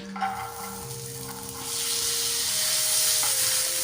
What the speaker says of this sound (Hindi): आधा मिनट इस मसाले को भूनने के बाद इसमें डाल देंगे हम ये काले चने।